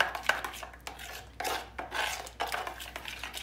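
A spoon stirs crushed garlic into yogurt in a bowl for a carrot tarator meze, making close, rhythmic scraping and clinking bursts against the dish, with no talking.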